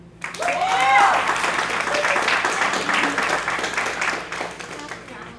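An audience claps for EMT graduates at a Hodges University pinning ceremony, dense applause building fast and then fading slowly, with a few voices and cheers mixed into the sound.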